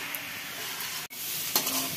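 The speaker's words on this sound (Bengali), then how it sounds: "এই চাউলটা ভালো করে ভেজে নিব" Rice being stir-fried in a pan for vegetable khichuri, a steady close sizzle with a spoon scraping and stirring, broken by a brief dropout.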